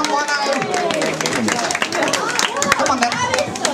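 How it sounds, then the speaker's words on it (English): A crowd at a hotel jubilee party claps and cheers over lively chatter, the applause steady and fairly loud beneath someone talking in the room. "Give a round of applause."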